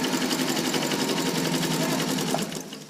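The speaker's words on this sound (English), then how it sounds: "Making sure again that I am only sewing the first seam allowance." A sewing machine stitches down a zipper seam allowance in a fast, steady whirring run of needle strokes, close and clear, slowing and stopping at the end.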